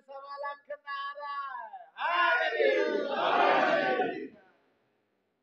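A crowd at a religious gathering shouts a chanted slogan in unison: a loud, dense burst of many voices after a lone voice leads the call, then fading out.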